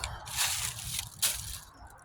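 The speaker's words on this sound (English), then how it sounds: "I was pouring the water out and filling this up to catch any tadpoles" Water being poured out through a mesh strainer to catch tadpoles, giving soft splashing, dribbling and squishing sounds in two or three uneven bursts, close and fairly quiet.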